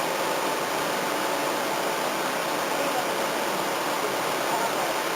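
Pump of a PC water cooling loop for a GPU circulating coolant, a steady loud rushing, hissing wash of water with air bubbles, constant throughout.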